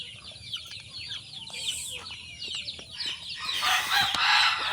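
Fighting roosters and chickens in the Philippines cluck and crow nearby, with overlapping calls and a louder crow near the end over outdoor background noise.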